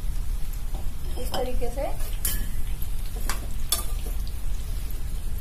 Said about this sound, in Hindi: अब मैं इसमें प्याज और शिमला मिर्च दोनों डाल के सॉटे करूंगी।